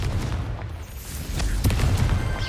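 A Confringo fire spell in the Hogwarts Legacy video game lands as a deep, booming blast, followed by a rumbling roll of smaller explosive bursts, loud and close with no talk over it.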